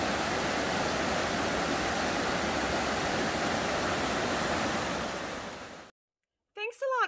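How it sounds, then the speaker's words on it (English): A river flowing near a mountain hiking trail, a steady broad rushing wash that holds constant for several seconds before cutting to silence, then a brief voice. "I can hear the river. At least I hope it's the river, because that would mean I'm getting closer."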